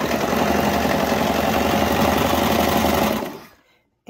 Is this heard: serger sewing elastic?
yes